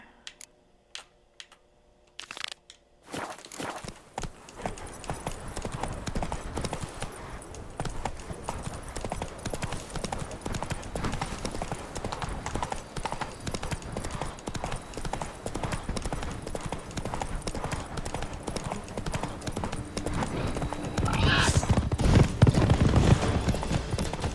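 Roach the horse gallops in The Witcher 3, a quick steady clip-clop of hooves running continuously after a few scattered clicks at the start and growing louder toward the end.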